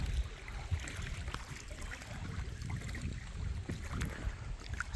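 Wind rushing and buffeting steadily outdoors by Dhamapur lake in Malvan, with low rumbling gusts and a constant airy hiss throughout, no voices.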